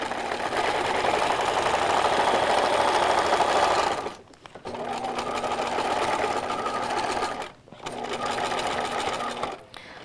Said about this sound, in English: I'm just sewing it from the back side so that it's easier to fit into my sewing